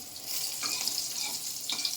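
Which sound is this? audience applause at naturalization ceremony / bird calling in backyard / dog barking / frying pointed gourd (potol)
frying pointed gourd (potol)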